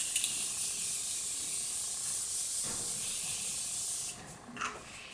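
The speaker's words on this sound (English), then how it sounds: "Okay, so I'm just gonna spray that all over my face," A steady, close hiss of fine aerosol makeup setting spray misting onto a face for about four seconds, then stopping, followed by a brief soft rustle.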